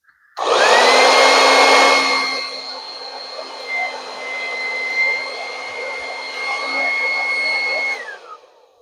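Hair dryer under repair switched on at its heat setting, a loud steady whooshing hum that starts abruptly, eases to a lower level, then cuts off after about eight seconds.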